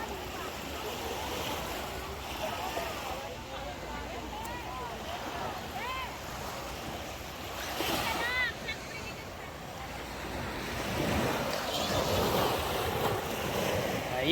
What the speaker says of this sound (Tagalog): Ayan, maalon.